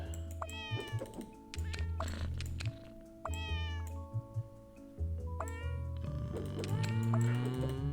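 Repeated short meows from the puzzle video game Cats Organized Neatly, three or four separate cries spaced a couple of seconds apart, each sitting on top of a bouncy background game melody.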